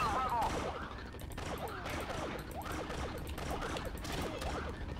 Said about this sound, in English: Precision pistols helping out real good because it's doing a lot more damage.